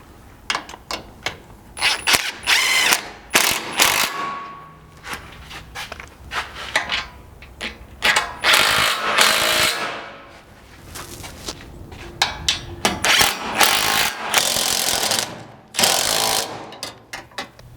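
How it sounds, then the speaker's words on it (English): Ratchet and hex driver tightening button-head bolts and frame mounts on a gas tank skid plate for a Land Cruiser 200 Series, heard as bursts of rapid mechanical clicking and metallic knocks, fairly close and loud, with short pauses between runs and no talk. "go back and tighten all these mounts to the frame, and then grab a 5/16 hex to tighten all the button heads to the skid plate"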